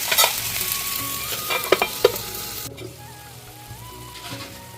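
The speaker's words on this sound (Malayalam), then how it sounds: "ഇതും നന്നായിട്ട് വഴറ്റിയെടുക്കാം" Tomatoes and onions sauté in a pan, loud frying sizzle with scraping stirs, then a quieter steady sizzle as the stirring eases off.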